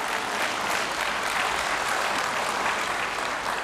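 Steady, dense applause fills a session of the German Bundestag, loud and even throughout with no voices over it.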